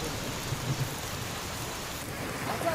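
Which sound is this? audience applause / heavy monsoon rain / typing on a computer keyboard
heavy monsoon rain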